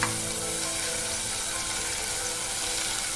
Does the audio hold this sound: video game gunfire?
no